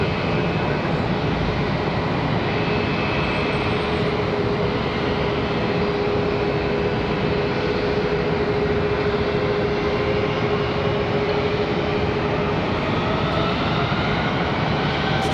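An airliner landing on runway 18 right at Charlotte Douglas airport, a loud, steady broadband engine roar with a faint hum, sustained without a break and without voices.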